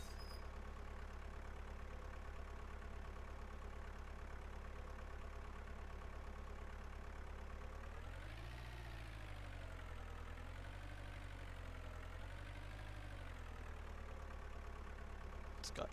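A tractor engine idles in Farming Simulator 2013 on a volcano island map, a steady low drone running the whole time that dips and wavers in pitch partway through, with no talk.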